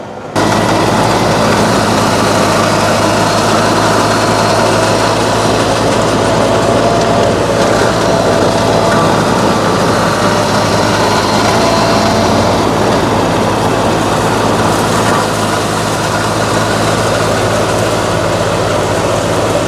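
The engine of an Energreen RoboFIFTI forestry brush-cutting robot gives a loud, steady drone throughout, a constant mechanical roar with a low hum underneath and no voices.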